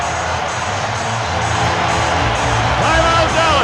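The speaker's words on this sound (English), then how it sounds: "The crowd is going nuts at Staples Center." Arena crowd at Staples Center roars and cheers steadily through a Clippers–Mavericks basketball game, a dense, loud wash of voices swelling slightly toward the end.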